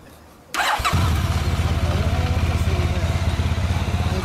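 A 2013 Honda VFR1200F motorcycle engine cranks and fires about half a second in, then settles into a loud, steady close-up idle with a rhythmic low pulsing throb.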